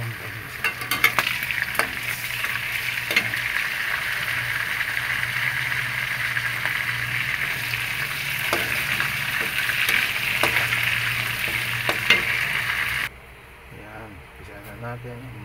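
Longganisa sausage sizzles steadily in a hot pan for a home-cooked ginisa con mais, with a spatula stirring and scraping in irregular clatters close by; a voice talks over it before the frying noise drops away near the end.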